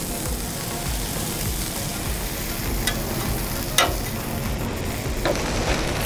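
Chopped cheese meat and onions sizzle on a Blackstone flat-top griddle, a constant crackling fry with a few sharp spatula scrapes and clicks scattered through it, and no talking.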